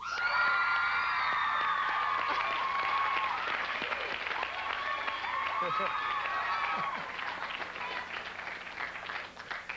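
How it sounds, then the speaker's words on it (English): A studio audience applauds and cheers for Jeff Timmons on a TV show, a dense steady wash of clapping and whoops filling the whole stretch, easing slightly toward the end, with voices mixed in. "Give a huge round of applause, and I know you will, for Jeff Timmons"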